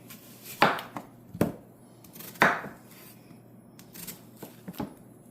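A kitchen knife chops vegetables for a pot of gumbo on a board, several sharp, irregular close thuds and scraping cuts separated by pauses.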